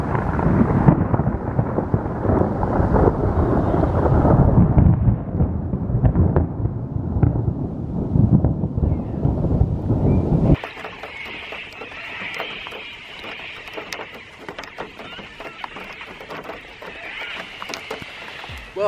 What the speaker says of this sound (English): as you just saw, we got caught in a bit of a thunderstorm